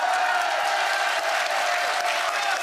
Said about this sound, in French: Applaudissements pour Francine, Damien et Virginie, parcours sans faute.